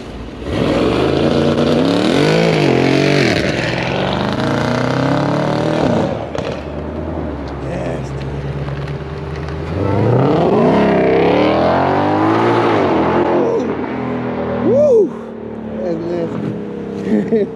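A car at a Christmas car meet revs hard in rising and falling sweeps, drops to idle, then revs again before pulling away, loud and close, with people talking nearby.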